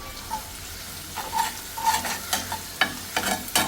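Onion frying in hot oil for onion curry, a low sizzle punctuated by several scraping stirs of a spoon against the pan, close and alone without talk.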